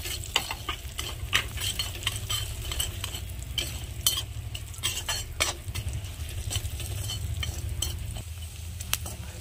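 Semolina with almonds, cashews and raisins is stirred and roasted in a pan for egg halwa, with a steady scraping stir and a soft sizzle running throughout, close and moderately loud, with no talk.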